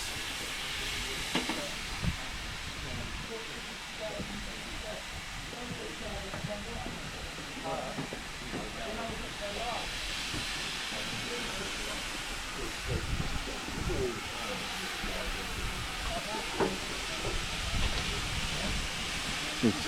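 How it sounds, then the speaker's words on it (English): GWR Pannier Tank 7754 steam locomotive hisses steadily at a heritage railway station, a continuous broad hiss of escaping steam with occasional clanks and faint voices in the background. "Steaming well down there."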